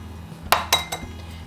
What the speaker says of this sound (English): We're going to start by cracking our eggs